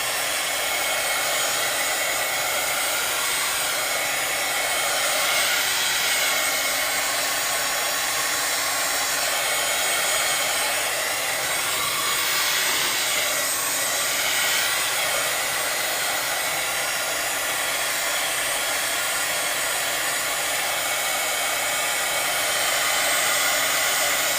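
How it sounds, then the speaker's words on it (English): A constant, steady blowing whir, like a hair dryer, from an embossing heat gun runs close by without interruption and with no voices. "which is just an embossing heat gun"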